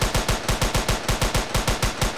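Rapid automatic gunfire in a shooter video game demo: a steady burst of about a dozen evenly spaced shots, loud and close, with no talking over it.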